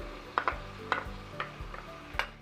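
Cumin seeds sizzling softly in hot oil in a kadhai, punctuated by several sharp metallic clinks of a spoon stirring against the pan, close and without talk.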